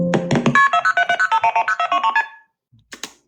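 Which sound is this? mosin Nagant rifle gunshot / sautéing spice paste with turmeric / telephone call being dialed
telephone call being dialed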